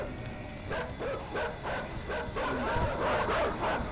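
In the side-scrolling puzzle game Inside, a dog barks in repeated rapid yelps and snarls, fairly close and steady, with a low rumbling ambience underneath and almost no talk.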